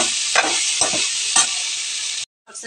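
Turmeric, chili powder and other spices fry with vegetables in a loud, hissing sizzle, broken by a few scraping stirs, before the sound cuts out abruptly and then returns briefly.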